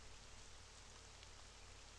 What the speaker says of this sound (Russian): Сегодня снова дождь.